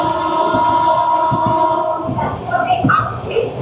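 The Humsafar Express runs through Kasimbazar station at night, a loud, sustained rumble with steady tonal hum and wheel knocks, easing into clattering and squeals as it goes by.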